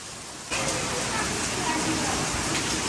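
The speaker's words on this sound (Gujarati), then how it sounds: "એટલો વરસાદ પડે હું તમને બતાવું" Heavy rain starts suddenly and keeps pouring as a dense, steady roar close by.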